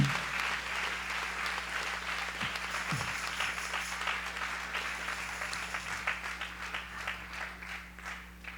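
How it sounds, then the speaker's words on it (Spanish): A church congregation claps in a sustained, dense round of applause, steady and fairly distant, with a low hum underneath and a couple of short knocks early on. "Dale ese aplauso al Rey de los cielos con todo tu corazón."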